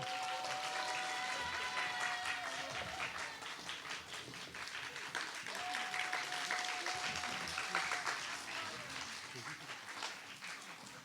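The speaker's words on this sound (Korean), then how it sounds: "연주자 선생님들에게 다시 한번 박수 부탁드립니다" Audience applause for the performers at the 2022 Miryang Song Camp concert, a dense, sustained wash of clapping that runs throughout, with a faint tonal voice or instrument line drifting above it.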